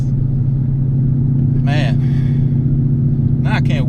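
A 2016 Ford Mustang GT with a T56 manual gearbox swap drives under a steady, loud mid-low engine drone with constant rumble. A voice cuts in briefly twice over it.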